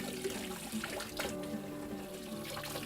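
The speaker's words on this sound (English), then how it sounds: "Just take it out and rinse it." Running tap water streams steadily while vegetables are rinsed under it at a sink, a continuous close splashing wash with no voices.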